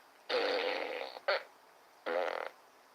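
Fart sound effects, two raspy flatulent blasts, the first long and sputtering with a brief pop after it, the second shorter, fairly quiet and alone with no talk.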